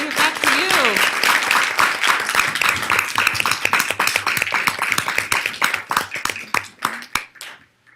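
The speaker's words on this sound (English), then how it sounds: "After that necessary applause break" Audience applause fills a city council meeting in Reno, a dense run of handclaps that thins out and fades toward the end, with a voice briefly heard at the start.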